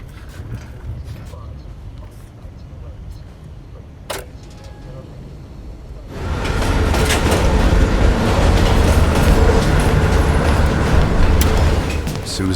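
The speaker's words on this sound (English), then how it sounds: "As soon as the train slows down, you and I'll jump off." A train rolls along its rails in the Call of Duty Cold War video game, a steady rumbling clatter that swells suddenly louder about halfway through and stays heavy and continuous to the end.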